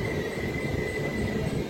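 A passenger train pulls away from Singarayakonda station, its steady low rumble of rolling wheels carrying a faint high squealing tone throughout, close and continuous, with no voices.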